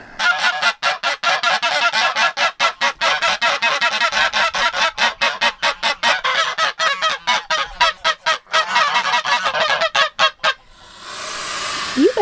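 Farm geese give a long run of loud, rapid, close honks and harsh calls near a nest with eggs, continuing almost without pause before ending in a faint hiss.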